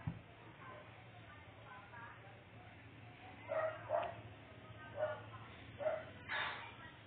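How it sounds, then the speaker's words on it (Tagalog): Faint dogs bark and yip in a handful of short bursts somewhere off in the distance, over a low steady background hum. "Maingay yung mga aso."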